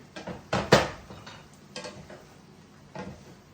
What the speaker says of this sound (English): So I think I'm gonna go ahead and toss the pasta in. Mix it all in.